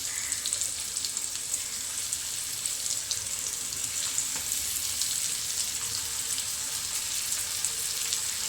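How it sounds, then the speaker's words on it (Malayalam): Fish pieces frying in hot oil in a home kitchen, a faint continuous hiss and crackle running evenly throughout with no talking. "മീൻ വറുക്കാൻ എണ്ണ ഒഴിച്ച് കൊടുത്തിട്ടുണ്ട് കേട്ടോ"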